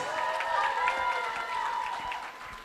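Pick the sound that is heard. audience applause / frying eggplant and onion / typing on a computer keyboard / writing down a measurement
audience applause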